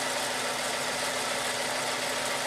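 Toyota Tarago van engine idling steadily around 750 to 800 rpm after a throttle body and idle air control valve cleaning, a constant close mechanical drone with no pauses.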